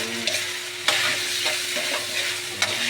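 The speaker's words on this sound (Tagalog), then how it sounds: "Mikos muna tayo" Onion, garlic and ginger sauté in hot oil for a mung bean dish: a steady, loud sizzle runs throughout, broken by the repeated scrape and clatter of stirring.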